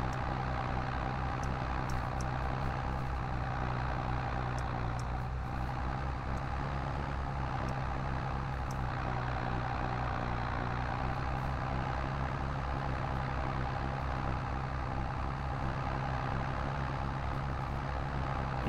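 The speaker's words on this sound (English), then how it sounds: "He said this tractor should be able to pull this, but man, she's struggling." A tractor engine labours hard while pulling a heavy load, a steady deep rumble droning on at constant strength for the whole stretch, with no voices over it.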